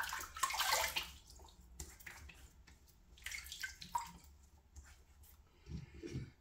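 Water splashes and trickles close by as hands scoop it over a face before shaving, in irregular bursts of sloshing and dripping that fade between handfuls, with no voices.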